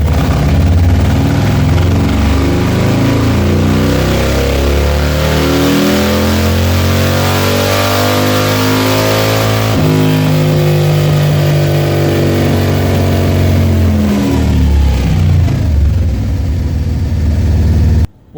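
An engine being tuned with an SE Street Tuner revs hard on a test run, its loud, continuous roar sweeping up and down in pitch through repeated throttle blips before cutting off abruptly at the end.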